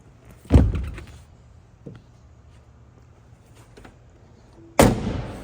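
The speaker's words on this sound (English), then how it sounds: "Doors close beautifully." A 1966 Chevrolet Corvette 427 convertible door slamming shut, one solid thump early on, a faint knock in between, and a second firm slam near the end, each ringing briefly before quiet returns.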